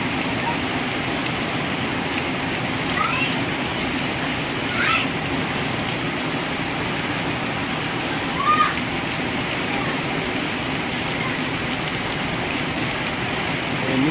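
Heavy rain pours down in a village, a dense and steady hiss of drops on surfaces that holds even throughout, with a few faint brief sounds rising over it.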